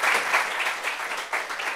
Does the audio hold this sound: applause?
yes